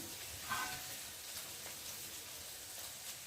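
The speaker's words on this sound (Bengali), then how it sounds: "মশলাটা তো ভাজতে একটু সময় লাগবে" Spices frying in a pan at home, a soft steady sizzle with light stirring scrapes throughout, fairly quiet and close, with no talk.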